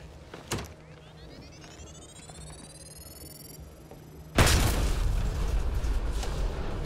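A loud explosion bursts suddenly in Mass Effect Andromeda after a quiet stretch with a faint whine and a small thump, then its roaring rumble sustains to the end.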